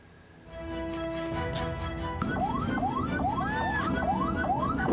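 An ambulance from the Cisoka community health center sounds its siren in dense traffic, a rising-falling wail starting mid-clip and repeating in steady sweeps, loud and close over the rumble of road noise.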